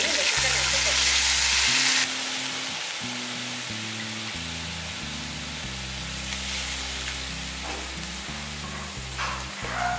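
Country chicken tossed with softened onions and a little turmeric powder sautés in a pan, a steady loud sizzle and hiss running throughout over background music.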